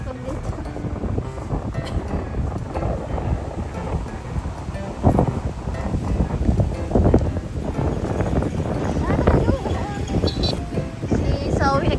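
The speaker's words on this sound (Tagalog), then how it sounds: "Ang hangin dito, no?" Steady wind buffets the microphone with a rough, continuous roar, while people talk intermittently over it.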